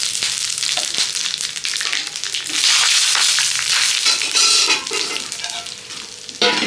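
Whole spices (cinnamon, cardamom, cloves, bay leaf and cumin) fry in hot oil for ghugni, giving a loud, steady sizzle broken by stirring scrapes and bursts of crackle throughout, with no talking.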